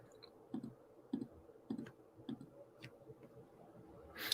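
A computer mouse clicks several times at a slow, uneven rhythm, each click sharp and close, in a quiet room with no talking.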